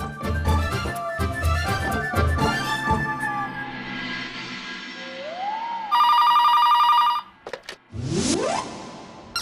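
A landline telephone rings in a Tamil TV serial: a loud, steady electronic ring cuts in after a stretch of background music and then stops abruptly.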